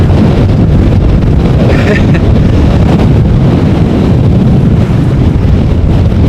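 Strong storm wind buffeting a microphone outdoors during plane spotting at Amsterdam Schiphol, a loud, constant roaring rumble that never lets up, with brief faint voices underneath.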